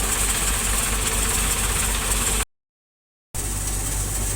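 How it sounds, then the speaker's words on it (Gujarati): A thresher runs steadily at a farm, where fritters are also being fried in a large kettle. A loud, continuous engine drone and rumble with mechanical vibration fills the clip, briefly cut out for about a second midway. "આની કરે થ્રેસર ચાલુ છે."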